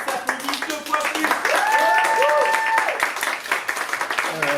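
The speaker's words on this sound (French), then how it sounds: "on applaudit très très fort" Audience applause and cheering for a first-time poet at a slam poetry tournament at a youth and culture centre in Cannes, dense clapping mixed with whoops and crowd voices throughout.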